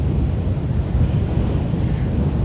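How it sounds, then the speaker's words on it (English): Loud, continuous wind roaring across the microphone at Waimanalo Beach, Hawaii, with a broad rush like crashing surf, no voices heard. "but it is windy, very windy"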